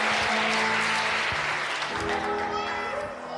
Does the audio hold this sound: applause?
yes